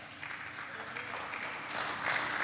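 Audience applause at a religious teaching session, a steady wash of clapping that swells slightly toward the end, with faint voices mixed underneath.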